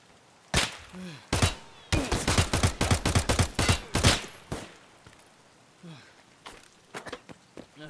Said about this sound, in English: we've just encountered players that are shooting us